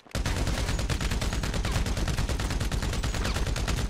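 Sustained rapid gunfire in a GTA roleplay server shootout, a loud, dense burst of shots rattling continuously for several seconds with no pauses.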